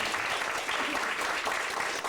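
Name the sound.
applause for a school award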